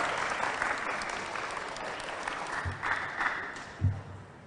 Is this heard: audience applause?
yes